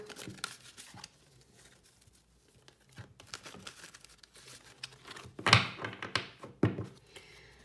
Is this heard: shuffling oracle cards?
yes